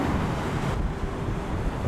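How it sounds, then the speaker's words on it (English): Water lapping at the hull of a moored boat on the Hudson River in New York, a steady close wash of noise with wind rumble, without clear distinct slaps. "the water slapping against the side of the boat"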